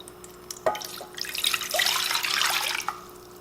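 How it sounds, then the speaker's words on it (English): Two cups of water pour into pint canning jars, a bright splashing rush that builds and holds for a couple of seconds after a few short drips and clinks, close by with no talk. "Now let's put in our water, 2 cups."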